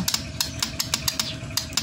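The push-start button is pressed on a Rouser 135 motorcycle with a suspected faulty starter motor. Close up, it gives a rapid, regular series of sharp clicks rather than a cranking engine.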